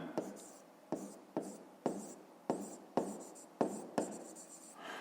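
Pen scratching out numbers by hand for a fifth-grade math exercise, in steady close strokes roughly every half second with soft scraping between them, no talk over it.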